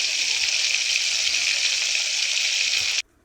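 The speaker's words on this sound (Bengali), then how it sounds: "তো ভোলা মাছকে ভালো করে ভেজে নেবে লাল লাল করে" Bhola fish sizzling in a frying pan, a loud, even crackle of oil heard up close that runs continuously and then cuts off abruptly near the end.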